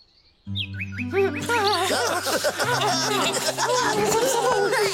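A small cartoon bird chirps in quick, high, rising tweets over a sustained musical backdrop in a children's cartoon. Playful snickering and vocal sounds join the busy mix.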